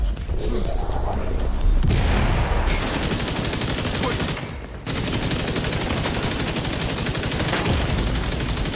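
Rapid automatic turret gunfire in a co-op shooter game, a dense continuous fusillade of shots with booms, loud and sustained through the whole stretch with only a brief lull.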